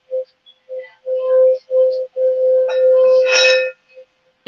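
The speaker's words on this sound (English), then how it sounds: "I want you guys to see the singing bowl because it's absolutely beautiful" A metal singing bowl is rung repeatedly, giving bright clinking strikes and a sustained ringing tone that swells and fades in uneven bursts, close and loud against near silence.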